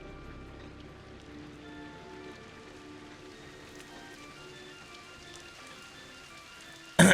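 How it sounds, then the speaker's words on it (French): Steady rain falls in the video game Viewfinder, a soft continuous patter at even level with no voices, ending in a brief louder burst. "Ah, il pleut."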